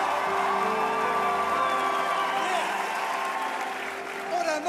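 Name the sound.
church audience applause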